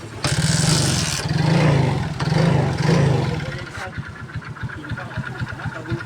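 Engine knocking from a damaged connecting rod: a loud, near engine revs in rough surges, then settles into a rapid rhythmic knock at idle, with someone talking over part of it.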